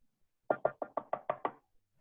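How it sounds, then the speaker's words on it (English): A pen knocks on a desk seven times in a quick, even rhythm, the taps close, crisp and alone in a quiet room. "I heard somebody like knocking on their desk. It was my pen."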